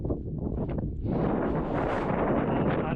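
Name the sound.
wind on a mountain top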